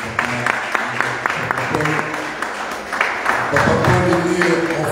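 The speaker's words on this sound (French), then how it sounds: "Nous l'applaudissons." An audience at a conference claps in a steady patter of applause, with a voice speaking over part of it.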